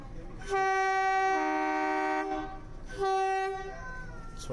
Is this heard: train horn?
yes